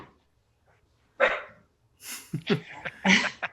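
A dog gives a few short, close barks and yips in quick succession, with breathy snorts between them, during a podcast recording.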